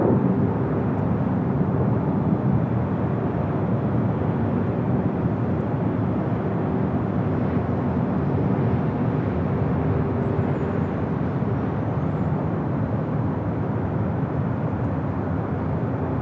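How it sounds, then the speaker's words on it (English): A British Airways airliner touches down on runway 25 left at LAX, a steady, loud broadband roar of engines and rushing air that holds evenly for the whole stretch with no voices. "British Airways touching down at 25 at left"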